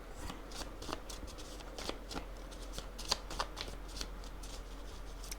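Tarot-style cards handled and laid out for a reading: a close, steady run of soft shuffling, sliding and flicking card sounds with small sharp snaps, with no talking.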